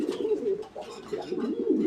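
A pair of satin pigeons coo close by in a loft, soft rolling throaty calls repeating in uneven bursts with little pause between them.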